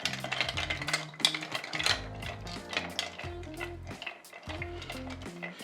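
A bar spoon stirs a Negroni in a mixing glass, giving a quick run of metallic clinks and light ringing taps against the glass, fairly close, with music playing underneath.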